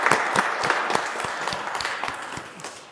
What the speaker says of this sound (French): Il faut applaudir pour accueillir la nouvelle année.